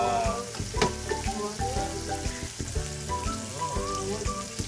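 Mung beans go into a hot pan with lechon and banana heart and sizzle loudly up close, with scraping and stirring clatter from a utensil throughout.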